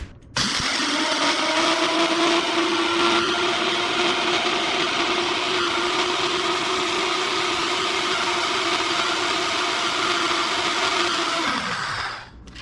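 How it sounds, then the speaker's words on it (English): Citrus peel with sugar being ground in a countertop blender, a loud sustained motor whine with a rattling grind that starts abruptly, holds steady for about twelve seconds, then winds down as the motor stops. "And now we grind."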